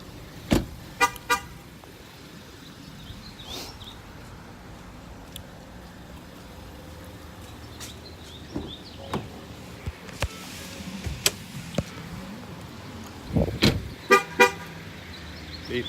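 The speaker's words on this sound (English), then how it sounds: "Honks at you every time." A 2016 Ford Escape Platinum 4x4 gives several short, sharp horn chirps in quick bursts as its doors open and close, the honks standing out over quiet surroundings with faint mechanical clicks between them.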